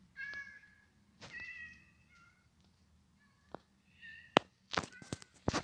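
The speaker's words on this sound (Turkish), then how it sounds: "Şunlar yavru kedi." Kittens in the video game Minecraft meow several times in short, high cries spaced apart, followed by a few sharp knocking thuds near the end.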